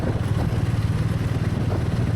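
A Harley-Davidson motorcycle rides a badly broken, potholed highway in India. Its low engine rumble is close and steady throughout, with slight rattling from the rough surface and no talking.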